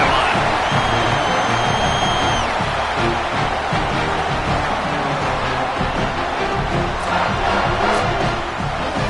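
A home stadium crowd roars in a college football video game, Baylor versus Auburn, before kickoff, a continuous, loud, dense cheer with occasional shrill whistles rising above it.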